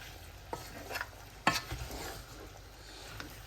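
Spiced beef kala bhuna curry being stirred in a pan, soft scraping strokes with a light sizzle underneath and one louder scrape near the middle, fairly quiet and without talk.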